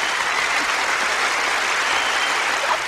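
A live audience claps steadily after a song at a small concert, a dense, even wash of applause sustained throughout without pauses.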